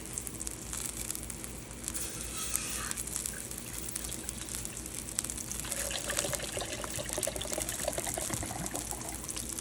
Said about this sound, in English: Add our water to it.